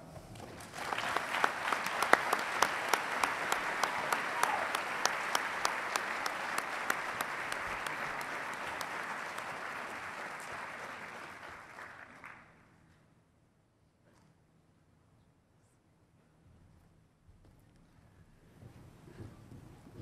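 Sustained applause from a ceremony audience welcoming a Gruber Neuroscience Prize recipient, dense, steady clapping for about twelve seconds before it abruptly stops, leaving near silence and faint room noise.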